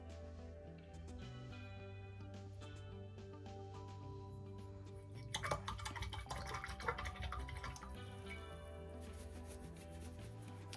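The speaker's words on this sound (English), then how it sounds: "Wash that brush off, dry that brush off" A paintbrush is swished and rinsed in a jar of water, giving soft splashing, dripping and brush-against-glass scrubbing, quiet and close, with faint music in the background.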